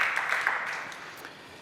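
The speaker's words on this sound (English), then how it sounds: "You don't have to applaud after each one" Audience applause at a Camden schools progress report event, a steady wash of many hands clapping that slowly fades over a second and a half, moderately distant in a large room.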